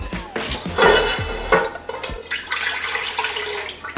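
Water poured into a cooking pot for lentils, a splashing gush with metallic clunks of the pot and utensils, louder at first and then settling into a softer trickle.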